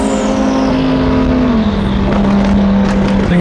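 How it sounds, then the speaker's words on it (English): A twin-turbo engine kit on a Chevrolet Corvette Z06 holds a loud, sustained high-rpm drone up close, its pitch dipping slightly midway, with no talk over it. "Look how good it sounds twin turbo."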